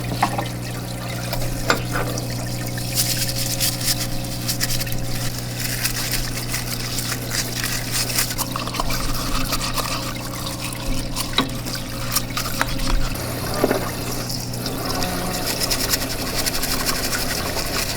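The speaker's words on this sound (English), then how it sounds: "The brand new parts washer that I just got. And we'll test that out, see if it works" A new parts washer runs continuously, its pump motor humming steadily while liquid trickles and splashes throughout, with occasional clinks of handled parts.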